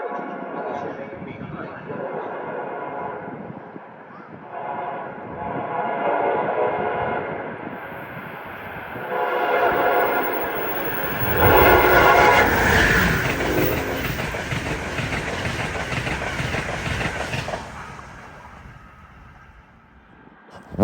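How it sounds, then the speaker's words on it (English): An Amtrak Northeast Regional train passing Mansfield station: rumbling builds over several seconds into a loud, close roar with a sustained horn-like tone, then fades. A person talks over the approach. "Northeast Regionals lack the aerodynamic capabilities of Acellas. Therefore, when they go by, they really make some noise."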